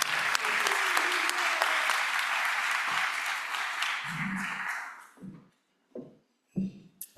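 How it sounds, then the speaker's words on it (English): A room of club members at a weekly Rotary-style meeting gives sustained applause for several seconds, which tapers off into a few scattered individual claps. "Give her a big round of applause"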